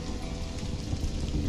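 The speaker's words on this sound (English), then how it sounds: "Rain! So they will complain now that they are wet." Steady rain falls in the survival game Stranded: Alien Dawn, a dense, even hiss of drops on surfaces that holds at the same level throughout with no voices.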